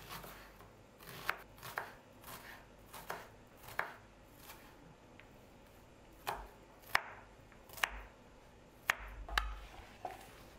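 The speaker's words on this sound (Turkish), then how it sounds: "Muhakkak benim gibi böyle minik minik doğrayın." A knife finely chops onions on a board in quick irregular clusters of sharp taps, close and clear, with short pauses between bursts.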